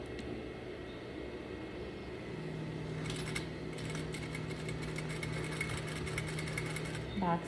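A sewing machine stitches a double welt pocket, starting up partway through and then running steadily with a fast, even mechanical whir, close and continuous over a quiet background.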